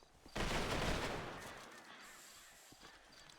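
Honor guard rifle volley in GTA V roleplay on NoPixel at a funeral near a crypt: a single sharp volley crack rings out early, then its echo decays into a quieter outdoor background.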